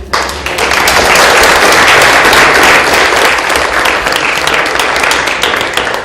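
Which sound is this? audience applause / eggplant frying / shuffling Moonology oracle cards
audience applause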